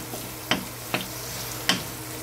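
Garlic and onion sauté in a pan for pork binagoongan, giving a soft steady sizzle broken by three sharp scraping stirs of a utensil, close and fairly quiet.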